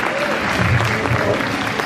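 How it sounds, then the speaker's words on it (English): Steady applause fills a school community event as an audience claps continuously, a dense and fairly loud patter throughout. "So let's give a big round of applause."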